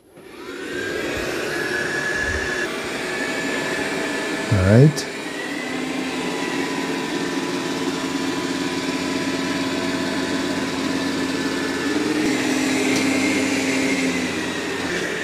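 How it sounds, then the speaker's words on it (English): A Dreame X40 Ultra robot vacuum cleaner runs over carpet with a steady, close whirring drone that holds level throughout, swelling slightly near the end, with a brief voice speaking over it. "Now it's going to go vacuum that carpet."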